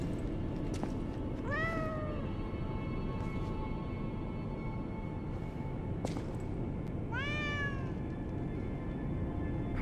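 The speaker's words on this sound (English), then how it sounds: "Oh, I can't help the cat." A cat meows twice in the video game Lies of P, two clear, drawn-out cries several seconds apart over a steady hum of game ambience.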